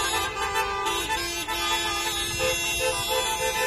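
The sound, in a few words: car horns honking at a drive-thru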